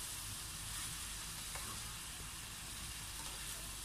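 Broccoli sizzles in a hot frying pan while a creamy pumpkin broccoli dish cooks: a steady, close hiss of frying with a few faint stirring clicks and no talking.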